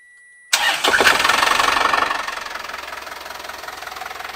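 A car engine fitted with a turbo that has a bad leak cranks and fires up abruptly after a silent moment, surges loudly in a brief rev, then settles into a steady, rhythmic idle close to the microphone.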